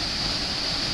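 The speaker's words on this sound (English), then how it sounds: "look how choppy that water is" Choppy river water rushes near a waterfall in McCloud, a loud, constant, close roar of churning water with no pauses or voices.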